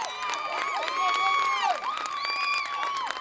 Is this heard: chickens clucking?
no